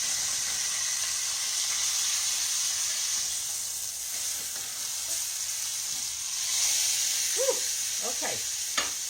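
A pork loin roast sears in a hot pan, giving a steady, close hiss and sizzle throughout, with a few faint scraping and turning sounds near the end.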